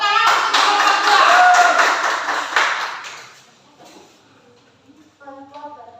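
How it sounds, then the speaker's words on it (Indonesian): A classroom of students clapping for a group about to present, a loud burst of brisk applause that fades after about three seconds, followed by a voice speaking. "Tepuk tangan untuk kelompok"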